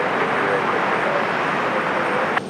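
An American Airlines jet takes off from runway 23 right, giving a broad, steady engine roar that stays loud and even throughout, with a brief sharp click near the end.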